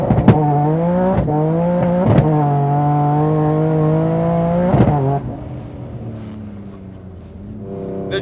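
A twin turbo Nissan 350Z on pump gas revs hard through several gears. A loud rising engine tone is cut by sharp shift breaks, then drops off near the end before building again.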